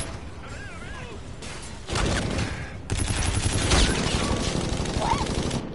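Hip-fire gunshots from a first-person video game shooter: rapid bursts of automatic fire and scattered shots, loud and dense, with a voice talking over the gunfire.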